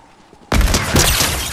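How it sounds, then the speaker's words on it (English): Gunfire in a shooter video game starts abruptly after a quiet moment, a loud burst of rapid shots and sharp booms lasting about a second, with no voices over it. "There's people shooting."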